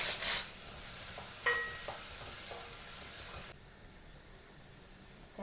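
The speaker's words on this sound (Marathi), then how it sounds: "आता त्यात मी हा कांदा टाकते." Onion added to a pan of hot oil and butter gives a steady, fairly quiet sizzle with a louder burst at the start, tapering to a fainter hiss toward the end.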